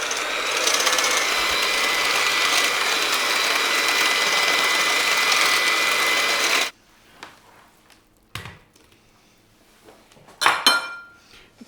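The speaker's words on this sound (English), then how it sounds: "We're going to whisk it for 3 minutes until it goes slightly lighter in colour." An electric whisk beats chocolate and orange cake batter in a bowl, a loud steady whir for several seconds that cuts off abruptly, followed by a few clinks and knocks of the bowl and beaters.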